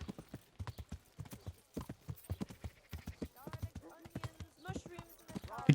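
Horse hooves clop steadily through a Kingdom Come: Deliverance town scene, a rhythmic run of hoofbeats at moderate distance, with a brief whinny-like tone and rising noise near the end.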